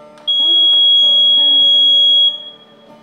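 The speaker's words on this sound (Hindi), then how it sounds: "दूसरी बैलेट यूनिट के बटन को दबाने से लंबी बीप आएगी।" A single long steady electronic beep from an electronic voting machine ballot unit, a clear tone lasting about two seconds, with a voice heard faintly beneath it.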